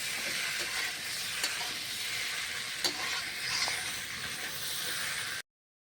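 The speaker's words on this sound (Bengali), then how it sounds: "তো আমার মশলা কষানো একদম সুন্দর পারফেক্টভাবে হয়ে গেছে।" Spice paste fries hard in a pan for a village-style Bengali duck egg curry, a dense continuous sizzle with a few scraping stirs before it suddenly cuts to silence near the end; no voices.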